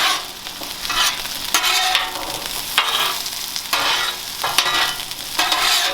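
Frozen potatoes fry on a Blackstone griddle with a bright, continuous sizzle, broken by repeated scraping stirs of a spatula about every second and a half, close and without talk.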